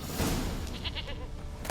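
A goat bleats in The Witcher 3: Wild Hunt, a short nasal cry heard up close over a dense, noisy game background.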